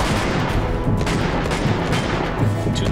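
Continuous gunfire from the handheld action game Uncharted: Golden Abyss on PS Vita, a dense, loud barrage of overlapping shots and bursts filling the whole span with no pauses.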